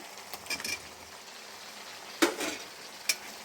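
Cut pieces of elephant yam dropped into a hot oiled pan and stirred, giving soft sizzling with a few sharp scraping and clattering stirs, close by and fairly quiet, with no talking.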